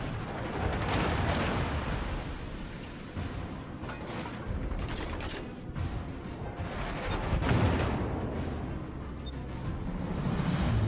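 Armor-piercing shells boom from warship guns in World of Warships, heavy rolling blasts and mechanical rumble in dense, continuous waves with no speech over them.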